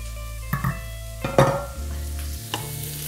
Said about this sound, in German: dann lasse ich erstmal 8 bis 10 Minuten alles zusammenbraten. Ab und zu umrühren.